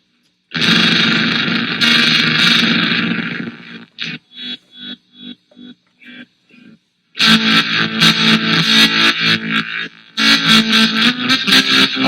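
A Pine-Box Customs Crooked Teeth fuzz pedal with its LFOs inverted: loud, distorted guitar chords that chop in and out, going from sustained fuzz to stuttering gated pulses and then back to a rhythmic tremolo-like throb.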